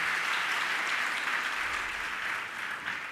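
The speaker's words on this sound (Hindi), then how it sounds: "एक बार जोरदार तालियों से।" An audience at a religious discourse session bursts into applause, a steady, dense wash of clapping from many people, moderately distant and sustained without a voice over it.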